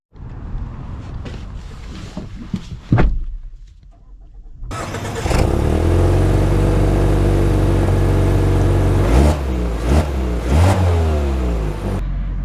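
A 2024 Mazda CX-5 starts up with a short engine burst, then settles and pulls away. Its steady, loud engine drone builds as it drives, with a few shifts in pitch along the way.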